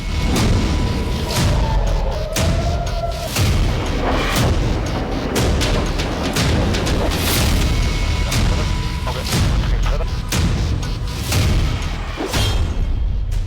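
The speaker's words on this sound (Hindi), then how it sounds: "ईरान ने इजराइल पर दागी बैलिस्टिक मिसाइल।" Iranian ballistic missile strikes on Israel explode in a loud, rapid series of heavy booms and blasts, repeating every second or so over a constant roaring rumble.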